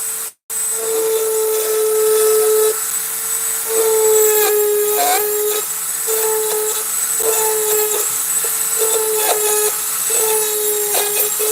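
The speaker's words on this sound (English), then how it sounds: "So this little ball burr, it will really cut in quick if you add too much pressure." A small rotary carving tool fitted with a ball burr whines at a steady high pitch, dipping and rising in short bursts as it bites into the workpiece under varying pressure, close and loud after a brief cutoff at the start.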